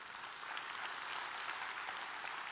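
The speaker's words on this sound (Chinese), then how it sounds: "我们给他一个热烈掌声。" Faint, steady clapping from an audience at a regional leadership training conference in Malaysia, a continuous wash of applause with no voices over it.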